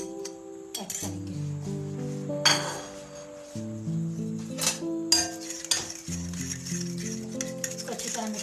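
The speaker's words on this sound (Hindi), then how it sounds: "इसको अच्छी तरह मिक्स करेंगे।" A spoon clinks and scrapes against a bowl while mixing yogurt raita seasoned with salt and ground red chili, the close, steady clinking running throughout with a low hum behind it.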